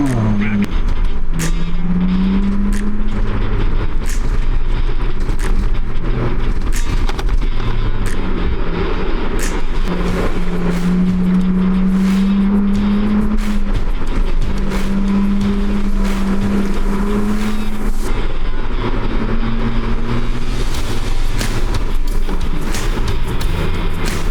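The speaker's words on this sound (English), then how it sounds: "All right, last time driving through these dunes." Ford Bronco Raptor rolling over sand dunes, a steady close engine drone with rising and falling revs throughout, wind and cabin rumble underneath, and people talking intermittently over it.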